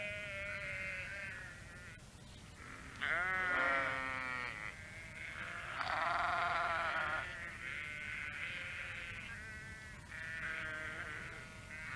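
Several sheep bleat repeatedly over a constant low rumble of wind, their wavering calls overlapping at moderate distance.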